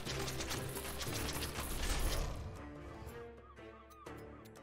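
Cartoonish seagull squawks rise from the Sea of Survivors video game, short chirpy cries layered over a dense, busy wash of mechanical clatter and game effects that thins out toward the end.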